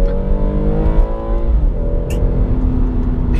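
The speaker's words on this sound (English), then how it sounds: "So you get some lovely barbels and overrun cracks and exhaust and stuff, like you did in the old car, but a bit more exaggerated in this." A 2017 BMW M240i in Sport Plus revs its engine, the rising then falling drone loud and close, with a couple of sharp exhaust overrun cracks popping near the end.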